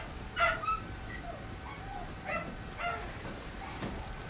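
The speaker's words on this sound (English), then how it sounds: "Dogs bark. Woof woof." Dogs in the Total War: Warhammer 2 battle game, giving several scattered, fairly faint yips and barks over a steady background of battle ambience.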